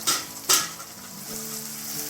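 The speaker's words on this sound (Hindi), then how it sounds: "अब इसको हम 1 मिनट तक फ्राई करेंगे" Omelette masala with tomato frying in a pan, a steady close sizzle with two sharp stirring scrapes near the start and a soft metallic ring toward the end; no talking.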